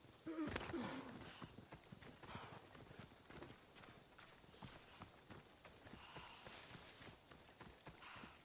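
Horse hooves clip-clopping in the video game Assassin's Creed Odyssey, a steady galloping rhythm running throughout, with a brief whinny near the start and a faint voice in the background.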